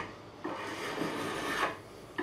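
Burrs being filed off the fret ends of a 1977 'Big Head' Fender Stratocaster neck during a re-fret, several short rasping metal-file strokes at close range, steady and scratchy, with no talking.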